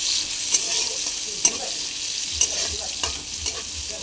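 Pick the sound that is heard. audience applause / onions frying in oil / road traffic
onions frying in oil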